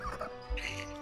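During a Minecraft game session, a person's voice imitates a goose with a short, honking squawk in two quick bursts, faint and close to the microphone.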